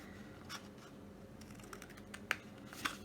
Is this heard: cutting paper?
yes